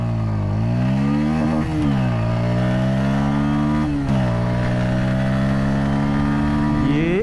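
A motorcycle accelerates hard from first gear in an acceleration test, its engine note climbing steadily, dropping briefly at each gear change, then rising again, loud and close throughout.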